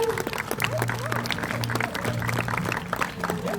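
Audience applause at a sea lion show in Nedugo Town, Bayelsa State, steady clapping throughout under a sustained humming tone and some voices.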